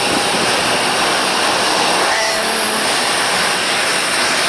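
Steady, loud whooshing roar of a passenger airplane's jet engines heard from inside the cabin on a domestic flight from Davao to Manila, continuous broadband noise without breaks or talking.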